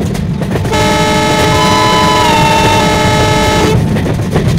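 A locomotive's double horn blasts loud and sustained for about three seconds in a train simulator, close up over steady rumbling engine and rail noise, no talking.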